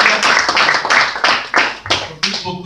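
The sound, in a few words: congregation clapping hands in church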